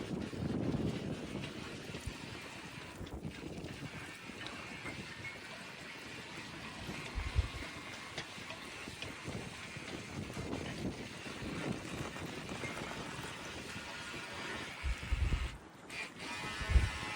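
A Tucraew 1/72 scale RC tugboat runs across open water, its small motor and propeller churn mixed with steady wind buffeting the microphone and a few louder low thumps.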